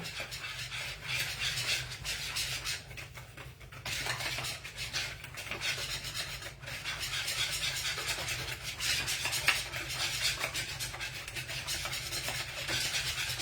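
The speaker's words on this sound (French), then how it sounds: "Je vais venir déjà mélanger ma première préparation" Powdered dry ingredients for chocolatine dough are stirred in a bowl, making a soft, steady scraping and rubbing with light utensil taps, fairly quiet and without speech.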